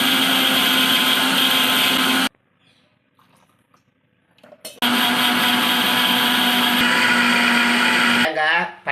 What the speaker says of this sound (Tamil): தேங்காய், பட்டை வத்தல், சீரகம் எல்லாம் போட்டு அரைச்சாச்சு